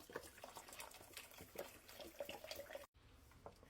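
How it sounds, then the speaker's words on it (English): A full 32-ounce carton of vegetable broth pours into a soup pot as a faint, steady liquid stream with small gurgles and splashes, ending with a brief cut and a few drips. "Since the recipe calls for 32 ounces of vegetable broth, we're going to go ahead and just dump this whole thing in here."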